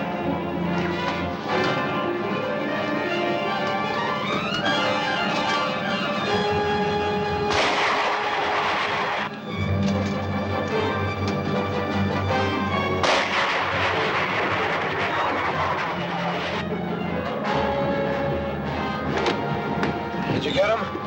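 Repeated rifle shots ring out amid a chaotic old serial action scene, loud sharp cracks and crashes over dense orchestral music, with voices heard.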